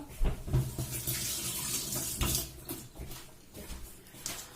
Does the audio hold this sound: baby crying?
no